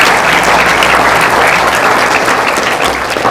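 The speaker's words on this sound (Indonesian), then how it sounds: "Beri tepuk tangan yang mulia." Orphaned children at an As-Syafi'iyah gathering applaud a visiting Palestinian scholar, a loud, dense, unbroken wash of clapping filling the short stretch.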